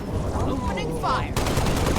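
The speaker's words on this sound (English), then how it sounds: "Opening fire." Video game gunfire in Halo Reach during a combat mission, a dense burst of shots across two seconds that grows steady and loud in the second half, with speech-like voices mixed in.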